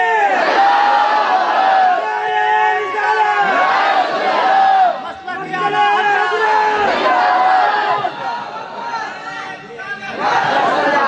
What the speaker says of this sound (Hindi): वो मजमे से खड़े होकर पहले नारा लगाए